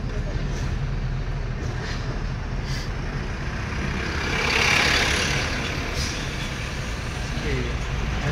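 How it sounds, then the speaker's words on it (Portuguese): Car engine revving up during a driving lesson on a road with speed bumps, a broad engine hum that swells to a peak mid-way then eases, with people talking over it. "Agora acelerou. Isso. Novamente, olha o barulho do motor."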